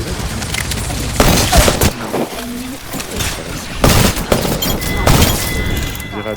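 Rapid bursts of gunfire crack and boom in a shooting video game, dense volleys with short gaps, while players talk over the action.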